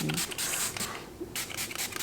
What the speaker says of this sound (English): I'm just gonna spray my Evolve Smart Start leave-in conditioner